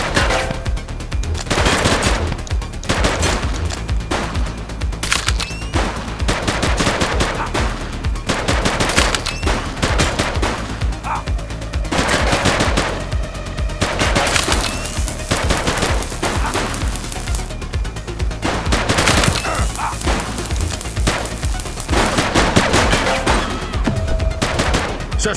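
Sustained gunfire from automatic weapons during a police shootout in the video game The Precinct, with dense rapid bursts and overlapping shots running continuously and loudly throughout.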